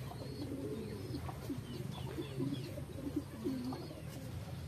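Several pigeons coo softly in repeated low, rolling calls, with faint chirps and quiet background talk.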